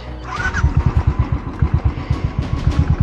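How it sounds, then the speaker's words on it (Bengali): A motorcycle engine thumps and bounces unevenly over a boulder-strewn off-road track in Ladakh, with rhythmic low jolts and a brief higher whine, close and fairly loud. "লাফাতে লাফাতে বাইক যাচ্ছে।"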